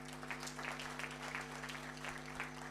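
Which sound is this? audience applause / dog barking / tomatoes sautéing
audience applause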